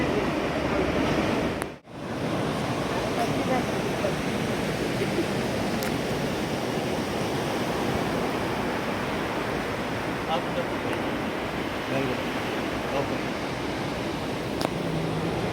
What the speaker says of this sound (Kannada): ನಾನೇನು ತುಂಬ ದೂರ ಇಲ್ಲ ಸಮುದ್ರದ ಮುಂದೆನೇ ಕುತ್ಕೊಂಡಿದ್ದೀನಿ